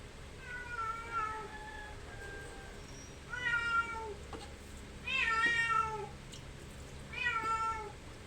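A cat meowing indoors, four drawn-out meows with short pauses between them, fairly close, over a low steady background hum and with no talking.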